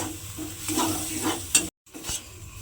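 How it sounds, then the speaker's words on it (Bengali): Spice masala being stirred and sautéed in a pan with a splash of water, scraping spatula strokes over a moderate sizzle, broken by a short silent gap. "এবারে খুব ভালোভাবে কিন্তু মশলাটাকে একটু কষিয়ে নিতে হবে"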